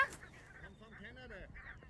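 Migrating ducks from Canada honk repeatedly near the sea in a series of nasal, wavering calls, fairly close, over low background noise.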